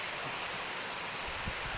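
Thararak waterfall in Phop Phra, Tak, rushes as a steady, loud wash of broadband water noise, with no voices over it.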